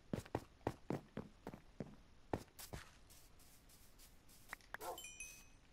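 Dog in the Minecraft video game giving a series of short barks and yips, quick and rhythmic at first, then sparser, with soft footsteps and small chimes.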